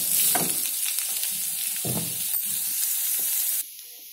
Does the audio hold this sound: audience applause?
no